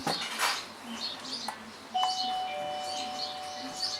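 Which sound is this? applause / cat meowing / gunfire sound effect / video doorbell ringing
video doorbell ringing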